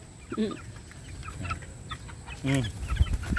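Gamecock roosters, Mitra White and Capistrano Boles stags, give a few short, close clucks spaced apart over a low background hum, with faint movement between calls.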